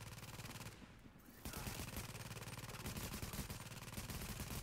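A deployed turret fires at enemies in The Division, a rapid, sustained automatic gunfire rattle that runs almost without a break, briefly thinning before resuming at full density.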